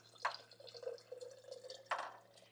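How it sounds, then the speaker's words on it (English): Distilled water splashes into a container in two brief bursts of dripping and pouring, with a quiet trickle between them, close and fairly soft. "I'm going to put our distilled water in here."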